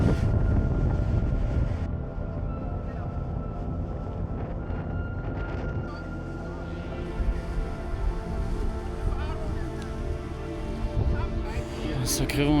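Strong wind at Byron Bay, Australia's most easterly point, buffets the microphone with a constant low, roaring rumble, while voices seem to murmur faintly underneath.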